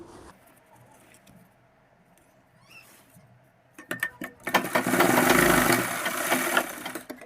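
A sewing machine stitching elastic onto half-elastic pants: a few seconds of quiet handling and clicks, then the machine runs loud and steady in a fast, continuous mechanical whir for the last three seconds.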